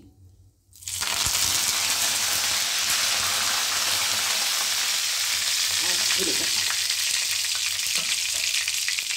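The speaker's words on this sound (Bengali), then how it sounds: "আর একটু কারি পাতা ফোড়ন দিচ্ছি।" Curry leaves dropped into hot oil burst into a loud, close, steady sizzle for a green peas malai dish. It starts after a short quiet moment and keeps going evenly with faint stirring underneath.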